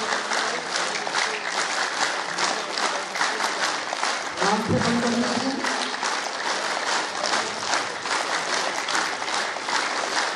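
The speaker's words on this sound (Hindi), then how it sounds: "और पूरा ध्यान ताली पर, ताली की गूंज पर लगाए रखें" A yoga camp group claps hands in a fast, steady rhythm during an exercise, the dense clapping loud and continuous throughout while an instructor's voice speaks over it.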